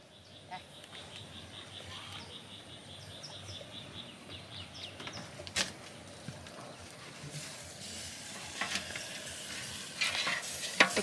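Oil drips and sizzles under honey-glazed chickens turning in a homemade rotisserie, a quiet, steady crackle with sharper pops and spits growing busier toward the end, heard close and without talk.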